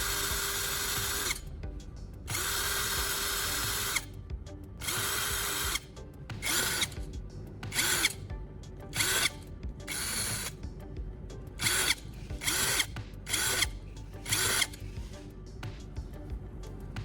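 A power drill bores many small holes in a plastic circle resting on a wooden block, running in repeated short bursts of high whirring with brief pauses between each hole, close and loud.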